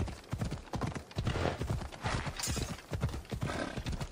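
Horse hooves clip-clopping steadily in Assassin's Creed Odyssey, a dense run of close, regular hoofbeats over a noisy outdoor game backdrop, with a brief whinny-like touch and no talk.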